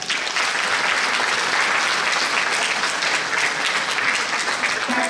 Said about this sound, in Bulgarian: Аплодирайте и програмния менеджер на фестивал Балкан Фолк Фест